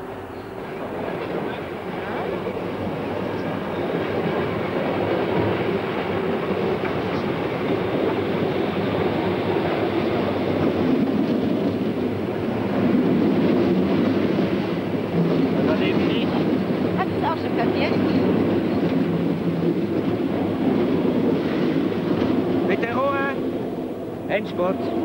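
A train rolls across railway tracks through a junction full of crossings and switches, a continuous rumble with clattering wheel noise throughout, and people talk at times over it.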